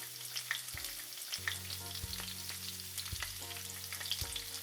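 Half a capsicum sizzling in a tablespoon of hot oil in a pan, a steady close frying hiss broken by a few soft stirring knocks, with no voices.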